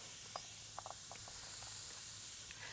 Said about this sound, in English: I'm just going to let those sear a little bit.